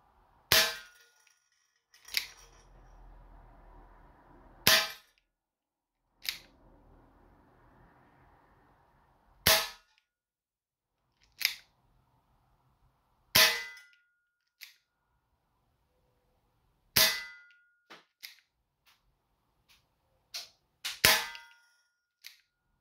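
Airsoft shells loaded with steel BBs fire in a series of sharp, isolated cracks, about a dozen spaced shots with a few closer doubles, separated by near silence and faint mechanical handling noise.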